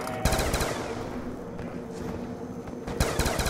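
Shotgun blasts in a zombie video game set in a town, loud sharp reports at the start and again near the end with clattering, rapid percussive activity between them.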